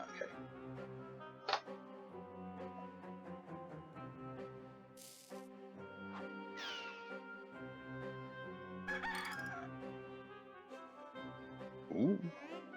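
Rooster crows and clucks play in the Discworld 2 computer game over looping background music. The calls come as a few short, fairly faint bursts spread across the passage.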